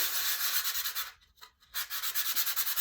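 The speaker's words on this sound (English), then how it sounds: "my sander and just kind of smooth out anything that might" An electric sander smooths a rough painted wood surface in close, steady rubbing strokes, briefly lifting off in the middle before resuming, with no talk.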